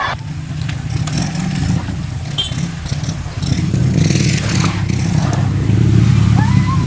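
A motorcycle engine runs steadily on an outdoor trip to Maduao waterfalls, a low droning idle that grows a little louder partway through, with faint background clatter.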